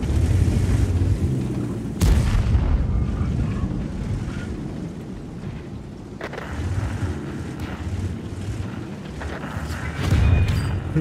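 Heavy tank cannon shots in World of Tanks, including fire from a Ferdinand: two sharp, loud blasts stand out against a constant low rumble of engine and battle noise.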